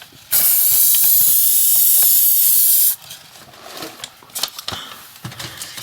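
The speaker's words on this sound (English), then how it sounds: "So using the hairspray again," Hairspray is sprayed onto a model railway hedge in one loud, close hiss lasting about two and a half seconds, followed by quieter small handling noises.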